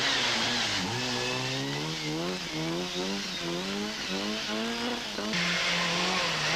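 A small two-wheel-drive Astra rally car screams along a rally stage, its engine loud and close, climbing through repeated revving gear changes with brief dips between shifts and no voices.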